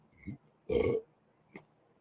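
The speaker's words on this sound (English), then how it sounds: "Wish I could have came up with a more epic burp than that." A single short, fairly loud belch from a man close by, with faint grunting sounds just before and after it.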